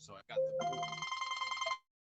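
A mobile phone rings with a bright, warbling electronic tone for just over a second, close and clear, following a few words of speech.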